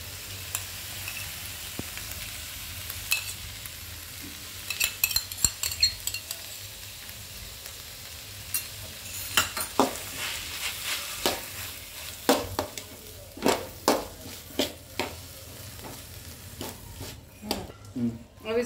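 Schezwan fried rice with red chilli sauce and Schezwan chutney is stirred in a pan over medium heat, giving a steady soft sizzle under repeated metallic scrapes and clinks of a spoon against the pan.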